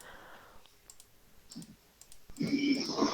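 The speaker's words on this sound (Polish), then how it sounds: "No halo, klawiatura, włącz się!" Computer keyboard keys click a few times, sparse and faint, while someone types in the MovieStarPlanet online game; a voice then speaks loudly over the last second.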